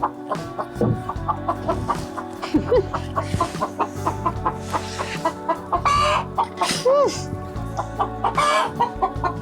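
Chickens cluck and squawk at close range in a mountain farmyard, a busy run of rapid clucks and rising calls with scuffling and a low steady hum beneath.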